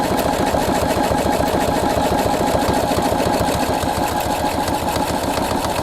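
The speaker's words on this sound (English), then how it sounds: "So now I'm going to start the buttonhole, and it's going to go the whole thing from start to finish." A Husqvarna Viking sewing machine stitching a buttonhole runs continuously with a fast, even mechanical whirr and rapid needle beat, close and steady throughout with no talk.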